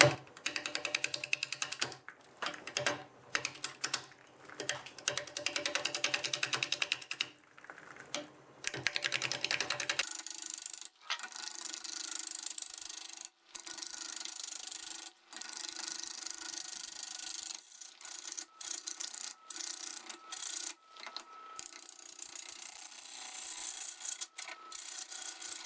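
Bowl gouge of 5/8 inch cutting a piece of firewood spinning on a wood lathe at about 600 RPM, a continuous rasping, scraping chatter broken by brief pauses, close and fairly loud.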